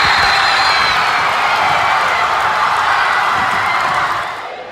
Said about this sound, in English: sending the home crowd into a frenzy